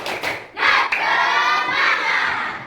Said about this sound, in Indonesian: Kita tepuk semangat lebih dahulu.